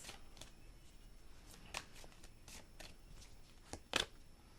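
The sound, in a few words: shuffling tarot cards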